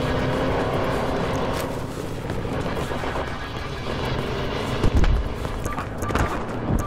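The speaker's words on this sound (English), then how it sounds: "looks like a transport helicopter" Transport helicopter in Battlefield Hardline, a continuous rotor and engine drone mixed with vehicle rumble and scattered game noises, with a sharper bump near the end.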